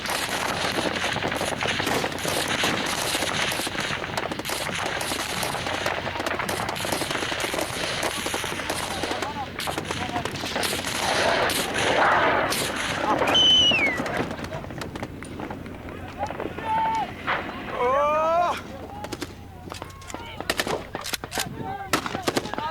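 Heavy, sustained automatic gunfire hammers an armored vehicle during a combat attack, dense rattling bursts at first, then thinning to scattered shots, with birds calling faintly between them.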